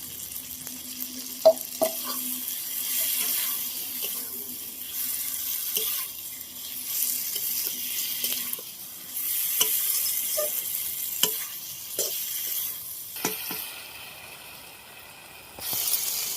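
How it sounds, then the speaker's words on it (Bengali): Fried potatoes are tipped into browned chicken for a jackfruit chicken curry and stirred in the pan: a steady close sizzle broken by repeated spatula scrapes and clicks, with no talking. "এবার আমি ভেজে রাখা আলুগুলোকে দিয়ে দেবো।"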